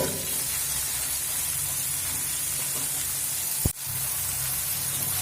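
Carrots and other vegetables for chowmein frying over a high flame, a steady, even hiss with one sharp knock partway through.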